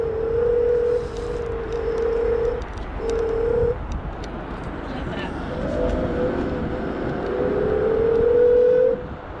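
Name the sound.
Kaabo Mantis 8 Pro electric scooter motors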